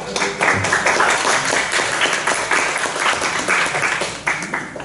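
Steady applause from a conference audience after an academic presentation, many hands clapping together at close range, holding a dense, even level before easing slightly at the end.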